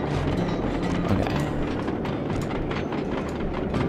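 Train in the Sly 2 video game rushing past with a steady, dense rumble and rattling clatter, loud and close throughout, with no talk.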